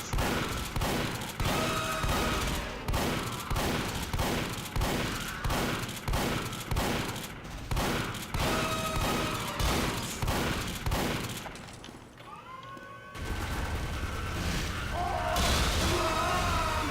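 The Natasha minigun fires in the video game Team Fortress 2 as a long run of rapid, evenly pulsing shots, loud and close, before a brief lull and a burst of other game noise.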